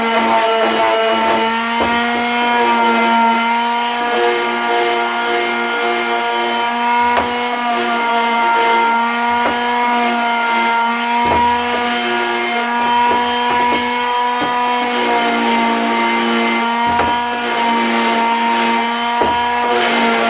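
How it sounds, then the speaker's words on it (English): A power sander works on small wooden Christmas craft pieces, giving a loud, steady, tonal whine that runs without a break, with faint rhythmic scraping and ticks as the wood is worked. "next we're just going to kind of quickly sand them"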